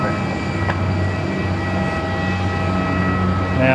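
Qantas airliner landing on runway 34 at Melbourne Airport in an 18-knot wind, a steady broad roar of engines and rushing air heard from a distance, continuous and fairly loud.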